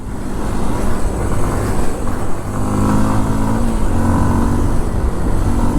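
A Kawasaki KLX 230 dual-sport motorcycle, 139 kg, ridden in first gear, its single-cylinder engine droning and revving up close over steady wind rush, without talk.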